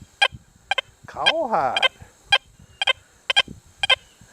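An XP Deus 2 metal detector running a bird dog program gives a series of short, evenly spaced electronic beeps. A voice briefly cuts in partway through.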